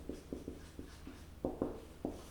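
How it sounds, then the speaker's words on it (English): A pen or marker writes out figures during a statistics lecture, a series of short scratchy strokes in an uneven rhythm, close and fairly quiet, with no talking. "I'm just going to write it over here."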